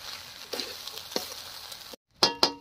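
Rice for basanti pulao is stirred and fried in a pan, giving a soft sizzle under a few scraping strokes, followed by a brief gap and then several sharp metallic clinks of utensils.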